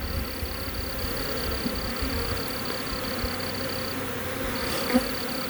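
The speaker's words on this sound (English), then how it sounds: "those bees I got out there fanning, that'll help them find their way quicker" Swarm of honeybees fanning near a hive box, a dense, steady buzzing drone close by, continuous and unbroken with faint background noise.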